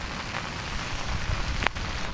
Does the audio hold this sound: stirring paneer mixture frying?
no